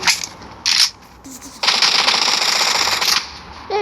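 Rapid gunfire in a game, short bursts of shots with one sustained volley lasting over a second, loud and close, with brief pauses between bursts.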